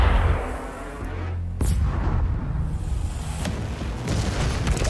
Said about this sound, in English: Of course I shoot myself out of a gun at Mars.